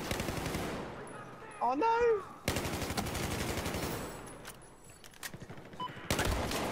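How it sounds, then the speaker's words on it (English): Rapid gunfire in an online squad shooter game, including shotgun blasts, crackles in dense continuous bursts with brief gaps, loud and close, while players shout over it. "Oh, shotgun!"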